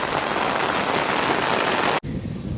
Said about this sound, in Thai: ฝนตกแรงมากเลยไปครับผม